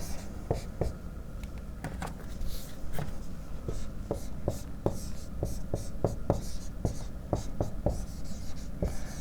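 A marker or chalk writes on a board during a chemistry lesson, producing a series of quick taps and short scratchy strokes in an uneven rhythm, close and moderately loud, with faint speech in the background.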